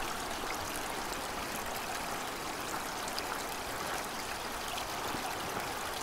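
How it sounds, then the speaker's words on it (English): A creek flows somewhere below a hillside path on the Sunshine Coast, a steady, faint rushing and trickling of water that holds even throughout, with no voices. "you might be able to hear the creek down there."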